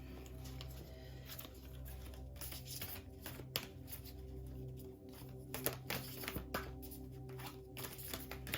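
Stiff oracle cards being shuffled by hand at a tarot reading, a quiet irregular run of papery riffles and flicks over a low steady background hum.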